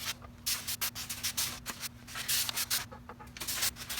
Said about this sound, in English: So I'm going to sand this way.